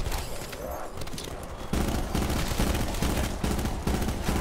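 Rapid, dense gunfire in Call of Duty Black Ops 4 Zombies on the Blood of the Dead map, a close and continuous burst that grows heavier partway through.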